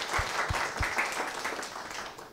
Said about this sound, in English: A round of applause again, an enthusiastic one.